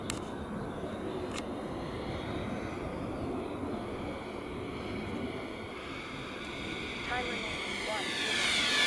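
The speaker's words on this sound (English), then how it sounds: "That aircraft that just took off." A Freewing F-5 model jet taking off, a steady engine roar heard at a distance under people talking, rising slightly toward the end.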